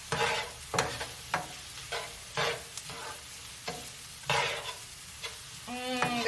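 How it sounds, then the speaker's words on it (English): Three kinds of onions with garlic sizzle in a pan for a turkey bolognese, under a steady frying hiss broken by repeated scraping stirs. Close and fairly loud, with no talking. "So I'm gonna saute all the onions together."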